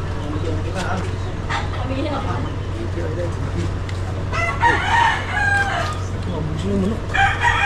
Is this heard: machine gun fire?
no